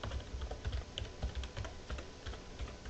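A command being typed on a computer keyboard, a quiet, close run of rapid key clicks at a steady pace with no voice.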